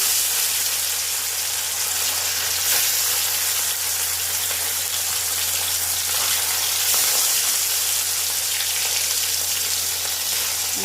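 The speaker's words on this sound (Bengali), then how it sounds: "তেল গরম হয়ে গেছে এবার আমি মাছগুলো আস্তে আস্তে ছাড়ছি" Bhola fish fry in hot oil for a Bengali fish curry, giving a steady, dense sizzle that stays close and even throughout with no talking.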